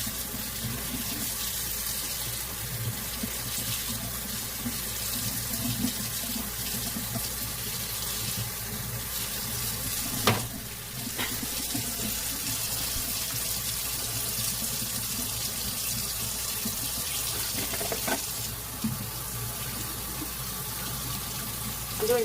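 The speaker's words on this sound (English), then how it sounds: "I'm doing dishes." Tap water runs steadily into a kitchen sink while dishes are washed, making a continuous rushing wash broken by a couple of brief clinks and knocks, with no speech.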